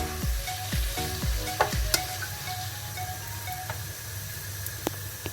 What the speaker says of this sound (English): We're gonna brown the mutton.